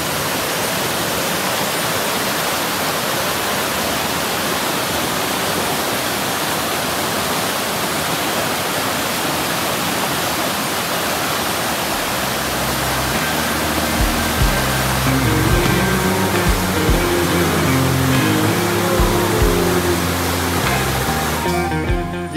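River water below a dam near Taman Melawati, Kuala Lumpur, makes a steady, loud broadband rush of flowing water throughout. Faint low rumbling enters in the second half.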